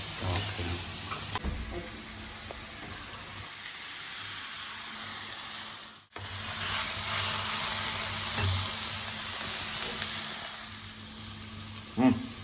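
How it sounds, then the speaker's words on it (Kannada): Spring onion fries in a pan for an egg burji, a steady close sizzle with occasional stirring scrapes and a brief dip midway, with no voices. "ಸ್ಪ್ರಿಂಗ್ ಆನಿಯನ್ ಇವಾಗ ಸ್ವಲ್ಪ ಇದಾಗಿದೆ, ಫ್ರೈ ಆಗಿದೆ."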